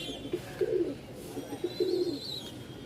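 Pigeons kept for sale in Dhaka coo just after release from their cage, giving two soft, throaty rolling coos close by over a faint background hum.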